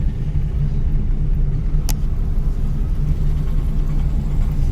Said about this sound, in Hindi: ऐसे क्रॉस कर रही कोई गाड़ी।